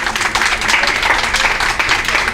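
A rally crowd in Franklin claps together, producing a dense, loud patter of applause that runs steadily throughout.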